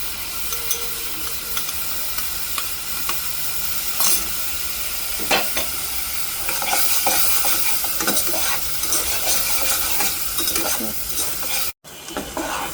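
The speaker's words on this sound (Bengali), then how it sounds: "আমার আদা রসুন কষানো হয়ে গিয়েছে" Ginger and garlic sautéing in oil for a chicken dish, a steady close sizzle and hiss running throughout, broken by repeated spoon scrapes against the pan and a brief dropout near the end.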